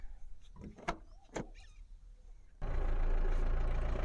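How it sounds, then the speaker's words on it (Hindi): A Mahindra Bolero diesel engine starts up: a few faint clicks and knocks, then the engine catches abruptly and settles into a loud, steady, rumbling idle nearby. "अब अपनी गाड़ी जो है स्टार्ट हो चुकी है।"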